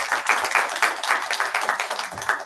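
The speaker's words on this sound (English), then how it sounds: "Give a huge applause to Rani." An audience at an international diversity and inclusion conference claps in steady, fairly close applause that lasts a couple of seconds.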